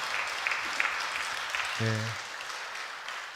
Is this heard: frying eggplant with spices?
no